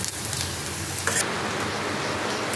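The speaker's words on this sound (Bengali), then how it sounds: "বৃষ্টি পড়ছে, মেঘ ডাকছে" Rain falls steadily outdoors as a dense, even hiss with a brief louder burst partway through, and nobody speaks.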